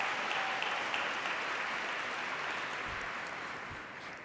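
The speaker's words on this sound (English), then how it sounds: "Please give yourselves a round of applause for being here today." A crowded hall breaks into steady, continuous applause during a speaking event, the clapping dense and even for several seconds with no voices on top.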